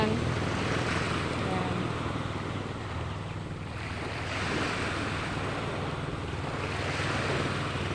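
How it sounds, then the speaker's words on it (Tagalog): Continuous wash of ocean surf at a clear-water tourist beach, waves breaking and rolling, mixed with wind buffeting the microphone, steady and fairly loud. "Manood ng hampas ng alon,"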